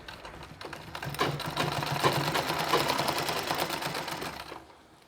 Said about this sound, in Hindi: और इस भाग को दबाने के लिए ही हम एक और सिलाई लगा रहे हैं।